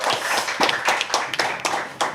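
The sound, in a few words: audience clapping at a speaking event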